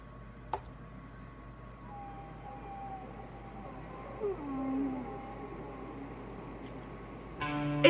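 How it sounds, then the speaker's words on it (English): Whale sounds from the opening of a song play quietly as low, drawn-out moans and faint rising calls over a soft background, with a few sharp clicks. "It's really whale sounds."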